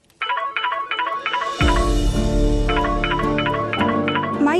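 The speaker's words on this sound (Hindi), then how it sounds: "प्रीति उतर, देख जरा किसका फोन है।" A phone ringtone plays a repeating, bright electronic melody in quick bursts, joined by a thumping musical backing after the first second.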